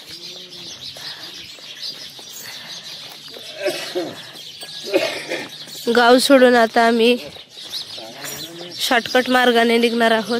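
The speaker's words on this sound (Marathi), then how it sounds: "हा नैसर्गिक चिमण्यांचा किलबिलाट ऐकू येतोय," Morning sparrows chirp in a village along the Narmada pilgrimage route. The bright twittering is steady but sits under a man's close, continuous talking, with some cooing calls mixed in.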